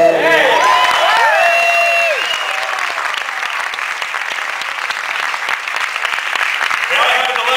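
A theatre audience bursts into loud applause with whoops and cheers after a five-club juggling trick at a family comedy show, the clapping dense and sustained across the whole stretch.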